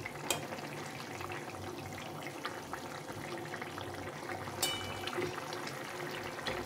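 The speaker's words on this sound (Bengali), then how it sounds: "মাছ দেওয়ার পরে ঝোলটা ফুটে গেছে।" Tangra fish curry with bitter gourd bubbles in a pot, a steady low simmering crackle and gurgle with occasional louder pops, close and continuous.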